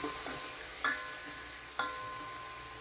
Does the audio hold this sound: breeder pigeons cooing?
no